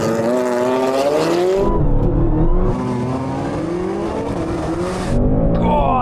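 A Ford Mustang V8 launches hard in a drag race, its engine roaring and climbing through rising revs with gear changes, loud and close, tone sweeping upward as it accelerates.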